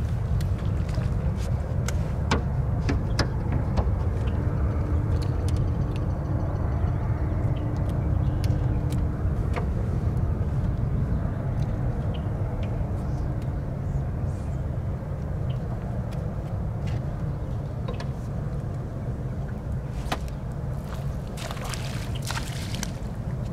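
Boat motor running in a marsh, a steady low outboard drone holding close and even throughout, with faint splashes and clicks on top and no talk.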